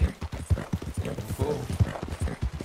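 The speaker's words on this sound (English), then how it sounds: "My horse likes me." A horse's hooves clip-clop in a steady, brisk rhythm in the Red Dead Redemption 2 video game, close and clear, with occasional faint voice underneath.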